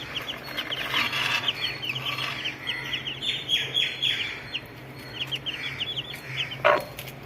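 Chicken chicks cheeping in rapid high peeping bursts, scattered through a quiet farmyard backdrop with a faint low hum and a louder peep near the end.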